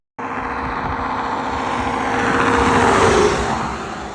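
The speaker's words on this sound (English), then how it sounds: "Apologies for the cars that you're gonna hear rushing by as I speak." Traffic on a road in Saskatchewan rushes past in a continuous, fairly loud roar that swells slightly as a vehicle goes by, with no voices over it.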